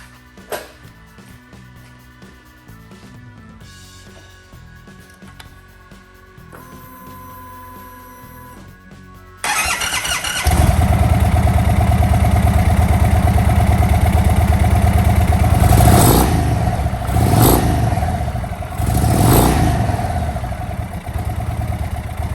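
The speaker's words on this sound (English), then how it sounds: "we'll go ahead and crank it over. See how she sounds." Quiet clinking and tinkering, then a 2023 Indian Sport Chief motorcycle engine, fitted with a newly installed aftermarket airbox, cranks and fires, settling into a loud, steady idle with a few short revs.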